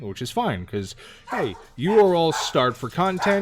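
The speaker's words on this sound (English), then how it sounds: "pardon the dogs barking in the background" Dogs bark and yip in the background of an indoor setting while someone talks close and steadily over them, his voice mostly covering the barks.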